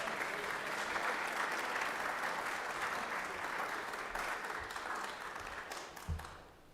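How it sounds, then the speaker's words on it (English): Sustained, loud applause fills a state senate chamber during a legislative session as the room honors a senator's visiting mother, steady clapping from many hands that thins slightly toward the end. "Let's give her a big round of applause here."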